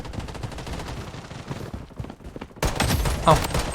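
Pistol gunfire in the shooter game Blood Strike, a rapid string of close sharp shots followed by a louder burst of game effects near the end, with no talk.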